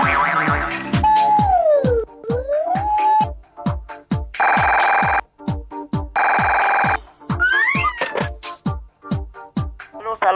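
A telephone rings in a Persian television comedy series, with two bright, sustained ring bursts set among jingly tonal musical effects and rhythmic plucks.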